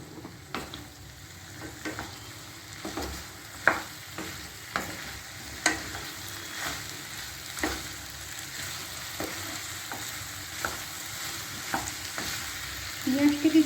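Onions fry with ridge gourd in a pan and are stirred repeatedly, each sharp scrape or tap of the spatula landing over a continuous low sizzle, with the stirring growing busier at the end.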